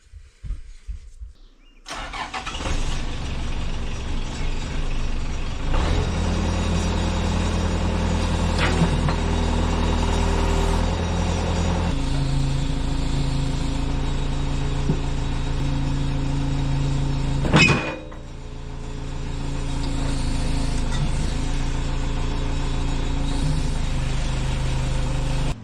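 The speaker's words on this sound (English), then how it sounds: "we gotta push this rim out of the tire, and we're gonna use the backhoe for that" A backhoe engine starts after a moment of quiet, then runs with a steady diesel drone, rising under load while pushing a rim out of an ATV tire, with a brief sharp clunk late on.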